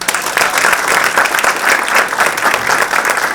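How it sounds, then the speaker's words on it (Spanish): A conference audience applauds two commentators on US election context and consequences. The clapping is dense, sustained and loud, with many hands at once, and it holds steady throughout with no voices on top. "para quien yo pido un fuerte aplauso."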